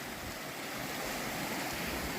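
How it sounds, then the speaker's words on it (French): Small waterfalls and streams rush beside a hiking trail in Galicia, producing a steady, broadband wash of running water with no breaks and no voices. "nous allons emprunter un petit sentier avec plein de petites cascades de partout"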